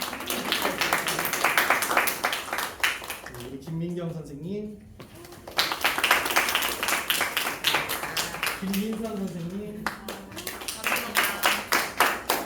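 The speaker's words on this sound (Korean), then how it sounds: "여러분 박수 많이 쳐주세요" Steady audience clapping runs throughout, loud and continuous, while someone speaks over it through a microphone at a church youth service.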